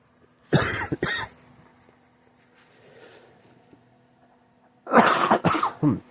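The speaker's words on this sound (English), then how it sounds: "Cough and loose out all that junk." Two bursts of harsh coughing, each a quick double cough, separated by several seconds of quiet room sound.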